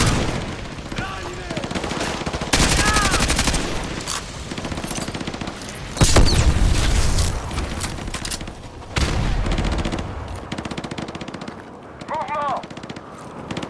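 Automatic gunfire bursts from a Call of Duty: Modern Warfare 2 Remastered firefight, loud and repeated across the clip with heavier booming volleys, mixed with game voice radio chatter.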